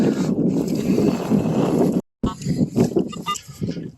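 Cold, blustery wind buffets the microphone outdoors on open ground, a steady loud rumble that cuts out briefly and then returns in gusts.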